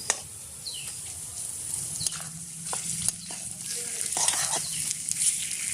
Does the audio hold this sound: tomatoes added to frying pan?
yes